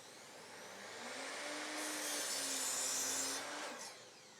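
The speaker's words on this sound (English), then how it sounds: "I'm going to cut out the remaining 3 levels" A power saw cuts wooden pieces for a garden obelisk trellis, a faint, steady whirring drone that rises into a harsher cutting whine for a couple of seconds, then eases off.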